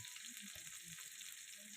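Chopped onion, green chilli, tomato and beans sauté in a pan with a steady, soft sizzle and faint stirring, heard close up with no voices.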